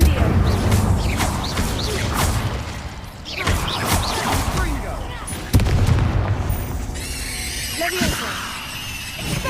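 An Incendio fire spell cast in Hogwarts Legacy: a burst of fiery whooshes and heavy booms amid other spell effects and rumbling, with voices heard briefly in the mix.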